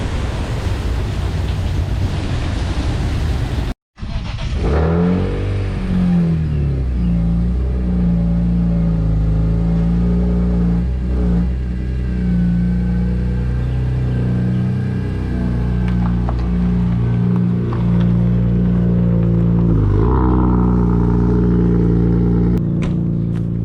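A car engine revs and drones loudly with rising and falling pitch, heavy wind buffeting the microphone throughout.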